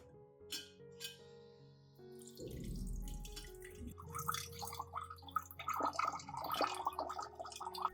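Wheat solution, cooled and strained to remove undissolved residue, drips and trickles into a glass container, with light glassy clinks and splashes that grow busier and louder toward the end; no voices.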